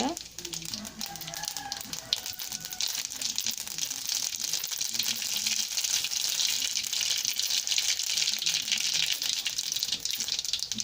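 Mustard seeds spluttering and crackling in hot oil in a heated wok for tempering drumstick sambar, a steady dense sizzle filling the whole stretch with no pauses.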